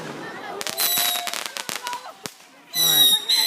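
Fireworks launching outdoors, loud broadband crackling bursts and sharp pops spread across a few seconds, ending in a dense bright whistling burst, with people talking nearby.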